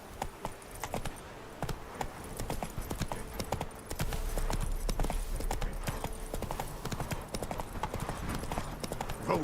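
Geralt's horse Roach trotting in The Witcher 3, hooves clip-clopping in a steady, close rhythm with faint jingling tack, and a low rumble building partway through, no voices over it.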